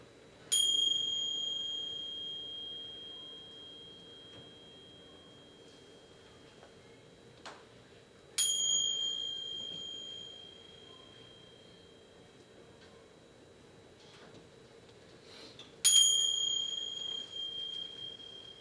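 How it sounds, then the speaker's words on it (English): Three bright chime strikes, spaced several seconds apart, each ringing out with a long, slowly fading shimmer over a quiet background. "Slowly awakening as you hear the chimes."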